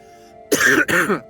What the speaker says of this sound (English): My cough fits are getting worse.